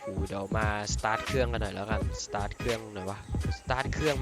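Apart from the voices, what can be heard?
No distinct noise like a dog, phone or traffic.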